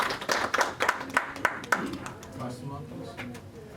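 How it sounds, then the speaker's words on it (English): Brief clapping from a small audience at a real estate office presentation, several sharp claps near the start that thin out and fade, with a voice murmuring in the background. "Let's give her a round of applause."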